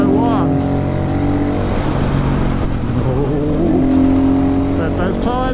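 A KTM 500 EXC supermoto motorcycle engine revs steadily and loudly as the bike is ridden, a constant close droning roar with rising and falling pitch.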